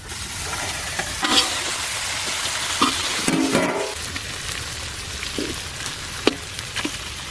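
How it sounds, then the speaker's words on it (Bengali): Fried peanuts, fried onion and fish head go into a hot frying pan for a Bengali taro-leaf dish; a steady broadband sizzle runs throughout, with a few short clinks and scrapes of stirring on top, no talk. "ভেজে রাখা বাদাম এবার দিয়ে দেবো ভেজে রাখা পেঁয়াজ আর মাছের মাথা"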